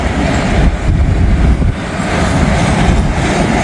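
Freight train I-142 rumbling steadily past in farm country, a loud, continuous low roar of rolling wagons with faint clickety-clack running the whole time, no voices.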